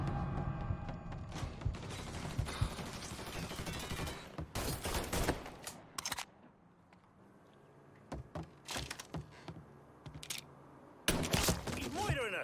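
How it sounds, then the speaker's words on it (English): In a Mafia III firefight, a gun is reloaded with metallic clicks and ratcheting mechanism sounds, broken up by sharp bursts of nearby gunfire before and after a quieter stretch. "Out of ammo! Gotta reload!"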